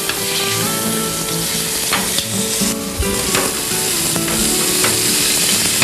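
A bull fillet sears in olive oil in a frying pan, giving a loud, steady sizzle and crackle with faint clinks and stirring touches throughout, with no voices.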